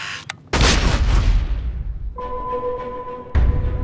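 A huge orbital strike blast called down with Euclid's C-Finder in Fallout New Vegas, a loud booming explosion with a long rumbling decay, laced with tonal energy hum and a second heavy impact at the end.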